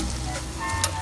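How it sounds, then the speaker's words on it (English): Churro dough fries in hot oil with a steady, dense sizzle and soft crackle, close up, plus a couple of faint clicks and taps from cooking utensils. "as I'm frying it now"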